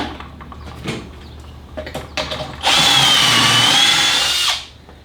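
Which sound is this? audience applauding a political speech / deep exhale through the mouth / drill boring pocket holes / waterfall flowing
drill boring pocket holes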